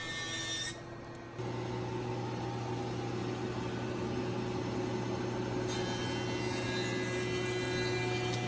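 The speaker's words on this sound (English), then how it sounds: "here she is planing down a piece of 8/4 quilted maple" A thickness planer dressing an 8/4 quilted maple board in a woodshop gives a loud, steady machine drone with a constant hum and dense broadband roar that dips briefly near the start, then continues unbroken; no voices.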